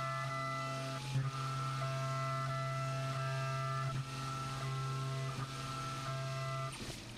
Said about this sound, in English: First, we'll remove most of the material from the flutes with a 3/16 end mill.